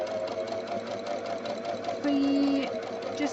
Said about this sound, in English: guide it through the machine